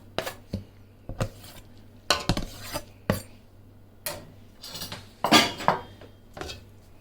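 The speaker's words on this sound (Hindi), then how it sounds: "इसको मिक्स करते हैं।" Chicken bread roll stuffing with chopped green coriander and green chillies is mixed in a dish, giving a series of separate clinks and scrapes of a spoon against the dish in uneven bursts, fairly close, with no talking.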